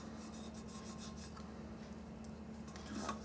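Sticker residue being rubbed off a stainless steel tumbler, a continuous soft dry rasping friction, close and quiet, steady throughout with a slightly louder stroke near the end.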